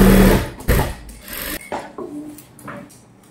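A sewing machine stitches a size 38 gown, its bursts of mechanical whirring and rattling close and loud at the start, then shorter intermittent runs between pauses.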